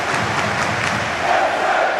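Ipswich Town supporters at a football match, a broad, steady crowd roar with cheering and shouting swelling slightly toward the end, no clear speech.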